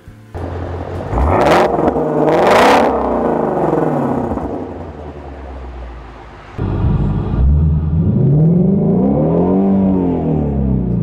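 A 2016 Ford Mustang Shelby GT350 accelerating hard on a 0-60 mph run at altitude: a loud engine roar that climbs through the revs, cuts off on a shift, then rises again.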